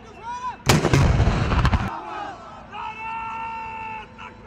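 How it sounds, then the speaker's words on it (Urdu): Cannon salute fired in a provincial capital to open Eid Milad-un-Nabi celebrations, heard as a loud burst of close, overlapping booms lasting about a second, then a murmuring crowd with a faint tonal hum. "صبح کا آغاز ہوا تو وفاقی اور صوبائی دارالحکومتوں میں توپوں کی سلامی دی گئی"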